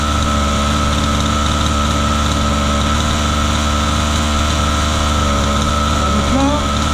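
A nitro engine on a 1/5 scale RC buggy runs steadily after being pull-started, a loud, constant buzzing idle up close with a slight wobble near the end.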